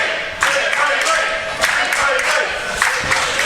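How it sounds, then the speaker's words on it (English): A wrestling crowd claps and cheers in support of a wrestler during a main-event match, giving a loud, steady wash of clapping with rhythmic bursts throughout. "The crowd are behind Big Wavy."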